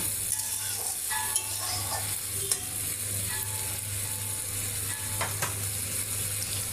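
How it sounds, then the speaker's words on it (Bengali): Raw jackfruit curry sizzles in a pan while a utensil stirs it, giving occasional scrapes and taps over a steady frying hiss and a low hum, close, with no voices. "একটু করে নেড়ে চেড়ে দিতে হবে"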